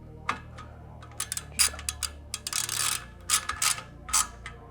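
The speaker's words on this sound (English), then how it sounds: "grab your 3/16 Allen and cinch them down" A 3/16 Allen key cinching down bolts on a Prinsu roof ladder for a 2008-2022 Toyota Sequoia, giving a string of short, close metallic clicks and ratchety ticks in irregular bursts with no talk.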